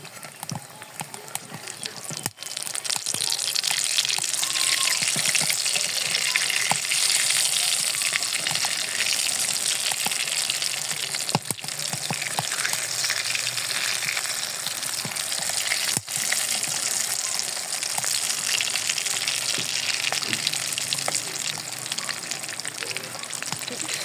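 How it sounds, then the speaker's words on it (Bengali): Aloo chop, potato chops, frying in hot oil: a loud, continuous bubbling sizzle with crackling bursts that stays steady throughout. "ভাজতেছি যাতে মচমচো হয়"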